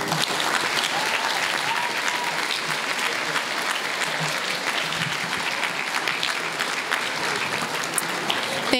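Audience at a junior high school graduation ceremony applauds the class of 2024, steady and full clapping from a large crowd that carries on throughout, with a few faint voices mixed in.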